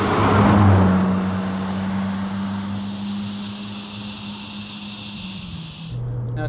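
Ferrari 458 Speciale engine droning steadily from inside the car while driving, a loud low hum that swells briefly at the start then settles into a smooth cruise before cutting away.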